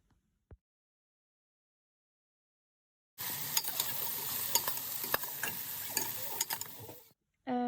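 Onion, garlic and chopped vegetables for a Somali Ramadan dish hit a hot pot. After about three seconds of silence a loud, steady sizzle bursts in, broken by stirring scrapes and clicks, then cuts off abruptly.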